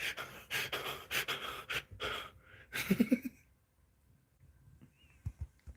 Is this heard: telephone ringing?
no